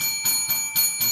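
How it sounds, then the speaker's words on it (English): A bell rings in four regular strikes about a quarter second apart, bright and sustained with a steady ringing tone carrying between hits, loud and close with no voices. "The song of this bell."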